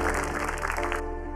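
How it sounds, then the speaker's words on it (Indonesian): A studio audience applauds Lucky Boy at an Indonesian e-sports talent show elimination, a steady wash of clapping over background music that thins out after about a second. "boleh kita berikan tepuk tangan yang luar biasa untuk Lucky Boy"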